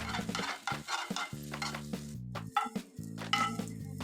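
Egg being broken up and fried in a pan, with sizzling broken by repeated scraping and stirring strokes and occasional clinks of a utensil against the pan, close and fairly loud, with no talking.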